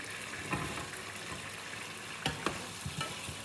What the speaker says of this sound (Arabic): تشويحة خفيفة للبصل.